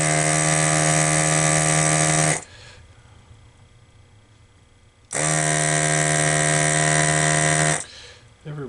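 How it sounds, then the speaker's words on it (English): A solder removal tool buzzes loudly on a bill validator circuit board in two bursts of about two to three seconds, with a quieter pause between. "301 solder removal tool hooked up"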